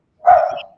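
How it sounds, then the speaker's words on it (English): A dog gives a single short, sharp bark, loud and close, cutting off quickly into silence. "Beckett's up there in Canada barking away"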